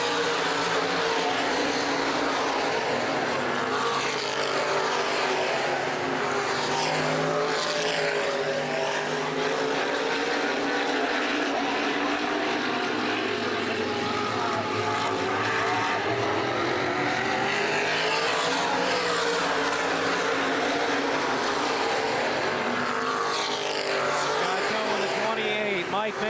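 Open-wheel modified race cars roar around Baer Field Speedway in a feature race, engines droning continuously and swelling as cars pass, with a race announcer talking over the noise throughout.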